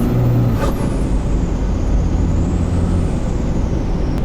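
A Cummins-swapped 2008 Ford F-350 dually pulls at half throttle, its loud diesel drone and road rumble filling the cab, with a short turbo or shift whoosh early on.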